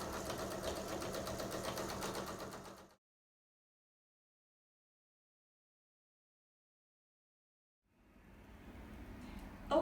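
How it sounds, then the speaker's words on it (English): A sewing machine stitches rickrack trim around the edge of a baby bib, running steadily for a few seconds, stopping into silence, then starting up again near the end. "continue sewing all the way around, keeping the rickrack on the very edge of the baby bib"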